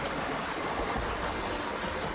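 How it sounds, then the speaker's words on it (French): A stream in Corsica runs from one rock pool to the next, splitting and rejoining in narrow rocky channels, giving a steady, close, full rush of water with no voices. "Le ruisseau passe de vasque en vasque, se sépare et se réunit dans les parties plus encaissées"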